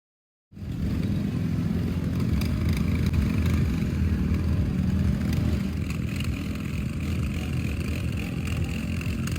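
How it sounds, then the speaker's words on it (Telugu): Steady, loud engine rumble of motorcycles running at low speed in a slow bike race, a continuous throaty drone with no pauses and no voices. "ఇక్కడైతే స్లో బైక్ రేస్ కాంపిటీషన్ అయితే జరుగుతుంది."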